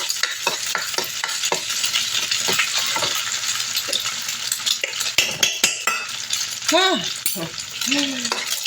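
Hotdog being stirred into sinangag (Filipino garlic fried rice) in a pan, with repeated spoon-on-pan scrapes and clinks over a steady sizzle, plus a few brief squeaky sounds toward the end.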